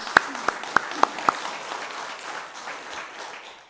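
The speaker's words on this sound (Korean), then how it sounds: "하나님께 감사의 박수 올려드리겠습니다" A church congregation at a Sunday service responds to a call for thankful applause; a few sharp, loud claps ring out in even rhythm, then fade into a softer, scattered clapping with room noise.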